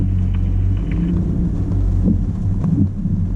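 A Ford Ranger or Chevrolet S10 pickup works through off-road axle articulation in 4x4, its engine a heavy, steady low rumble close by with faint creaks and knocks and no talking.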